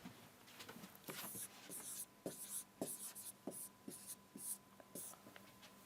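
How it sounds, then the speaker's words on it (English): Quiet stylus or pen strokes on a tablet screen during a science lesson, a series of short scratchy taps and drags in irregular rhythm, close and soft, with no talking. "I will write on the screen here."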